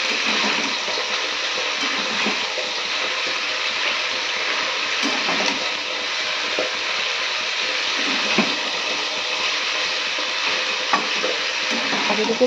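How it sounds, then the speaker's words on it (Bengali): Ridge gourd (taruli) frying in a wok, a steady broad hiss of oil with light scraping and stirring throughout, continuous and fairly close, no voices. "আর তরুলিগুলো ততক্ষণে ভাজতে থাকি।"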